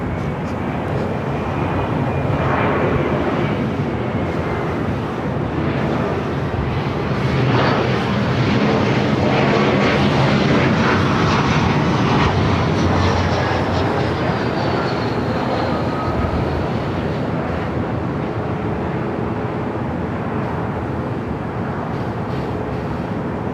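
Jet airplane engines roar steadily and loudly at LAX airport, a continuous broad rumble that swells and fades slightly as an aircraft passes, with faint radio talk underneath.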